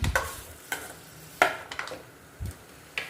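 Tomatoes cook in hot oil in a pan as a spatula stirs and scrapes in about five distinct strokes over a soft, low sizzle, with no talking.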